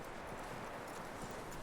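Horse hooves clip-clop steadily in Red Dead Redemption 2, a continuous close trot blended with dense outdoor game ambience for under two seconds.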